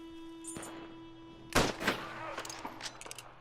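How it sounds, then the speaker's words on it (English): Gunshots ring out in the Red Dead Redemption 2 video game: a few sharp cracks cluster after a quiet stretch, fairly faint against a humming backdrop, with scattered smaller pops following. "I can hear gunshots"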